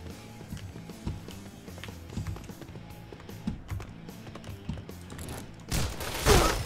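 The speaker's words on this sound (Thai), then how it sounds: "เป็นแบบยิงแบบออโตเมติกนะฮะ ยิงต่อเนื่องได้" Automatic rifle in the shooter game Point Blank fires in rapid continuous bursts, moderately loud with a steady rattling rhythm and a louder noisy burst at the end.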